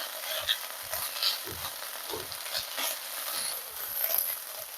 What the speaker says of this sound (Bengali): পেঁয়াজ গুলো এরকম 3-4 মিনিট নাড়াচাড়া করে ভেজে নিয়ে